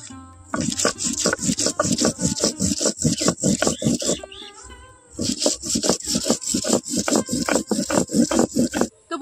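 Ginger, fennel seeds and cumin are ground by hand into a spice paste on a grinding stone, with rapid, rhythmic rasping strokes that pause briefly midway and then resume, loud and close.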